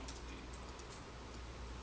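Quiet, rapid clicks of keys being typed on a computer keyboard, faint and close, over a steady low hum.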